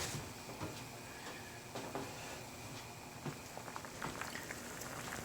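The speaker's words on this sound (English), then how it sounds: "we're going to set that on the stove until boiling" Water bubbles at a boil in a pot on a stove with quiet, irregular pops and gurgles over a soft steady hiss. It is faint and close, with no voices.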